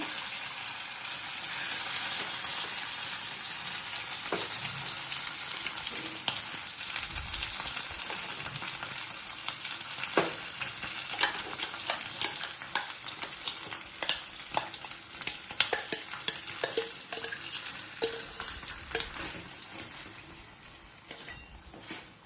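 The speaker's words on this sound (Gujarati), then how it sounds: "હવે આને સરખી રીતે મિક્સ કરી નાખવાનું છે ઘીમાં, અને ધીમા તાપે શેકાવા દેવાનું છે એને થોડીક વાર માટે" Puran filling roasts in ghee in a pan, giving a continuous loud sizzle with frequent scraping clicks of a spoon stirring against the metal throughout, no voices.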